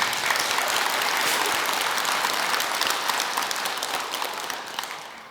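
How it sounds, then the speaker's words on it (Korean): Sustained audience applause fills a Buddhist dharma talk at a regular temple service in Chuncheon, a dense, steady wash of many hands clapping that holds strong throughout and tapers slightly near the end, with no talk over it. "우리 주스님께 큰 박수 한번 부탁드리겠습니다"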